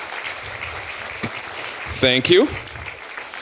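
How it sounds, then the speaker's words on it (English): Applause from a comedy festival audience for a stand-up comedian: a steady wash of clapping throughout, with someone speaking briefly over it partway through. "give it up for Kevin, everybody, one time, would you please?"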